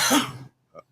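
Someone coughs or clears their throat once, close and fairly loud, with a second short throat sound following after a brief pause.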